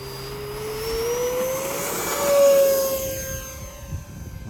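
An RC jet plane's turbine engine spools up for takeoff with one notch of flaps set, giving a steady, loud whine that climbs in pitch and swells near the middle before easing slightly, with no talking.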